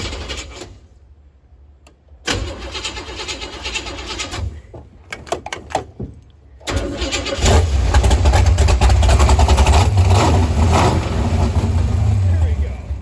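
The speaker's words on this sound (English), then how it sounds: "Give it more gas, you little baby. It's a big block." A 468 big block Chevy engine in a Nova cranks, catches and then revs and runs loud with a deep, steady roar, while people talk near it.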